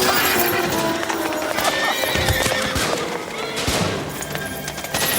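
A squad of Uhlan cavalry horses clatters close by with dense, overlapping hoofbeats and loud whinnying, joined by scattered sharp bangs in a dramatized wartime scene.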